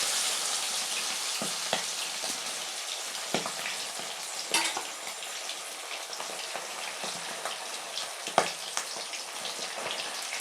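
Quail pieces deep-frying in oil give a steady, crackling sizzle with scattered sharp pops and spatters, close and continuous throughout.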